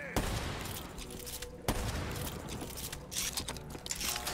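Rapid bursts of sniper rifle fire in a Black Ops 3 Zombies match on Shadows of Evil or The Giant, dense and loud with sharp cracks layered over continuous in-game noise.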